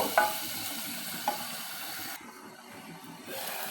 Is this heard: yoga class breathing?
no